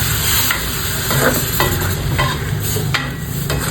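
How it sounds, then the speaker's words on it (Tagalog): Chicken curry sizzling and frying in a pan as chicken broth goes in, a dense steady crackle with spoon stirring scrapes repeating every half second or so, close and alone. "So pwede na tayo mag-add ng chicken broth."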